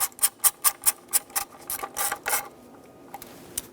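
A ratchet tightening the ignition coil bolt on a 2013-2018 Hyundai Santa Fe 2.4L I4, a close run of evenly spaced metallic clicks that speed into a faster burst and then stop.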